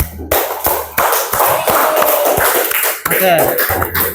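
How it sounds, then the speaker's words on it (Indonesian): A classroom group of students claps for another group, a few loud distinct claps at first, then a quick scattered patter of hands close by, with some voices mixed in. "berikan tepuk tangan kepada kelompok 3."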